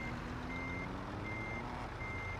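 Reversing beeps from a truck in Euro Truck Simulator 2 with ProMods and a Middle East add-on: three evenly spaced electronic beeps, clear and steady, over a constant low idling engine rumble.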